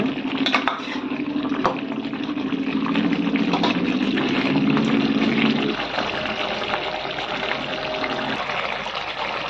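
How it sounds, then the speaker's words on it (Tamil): Water is poured into a pot of mochai kuzhambu, a steady splashing pour lasting several seconds, close and moderately loud, then fading to quieter trickles. "உங்களுக்கு தேவையான அளவு தண்ணி சேர்த்துக்கோங்க"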